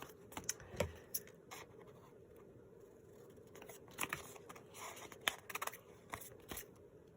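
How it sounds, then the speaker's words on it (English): Scissors cut paper book pages for a junk journal, giving a few quiet, close snips and crisp paper rustles spaced out over several seconds against a low background. "and then here I just cut it like this because I don't want this to overlap."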